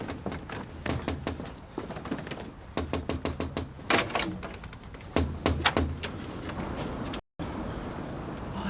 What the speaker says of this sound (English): What's happening? Someone at the door.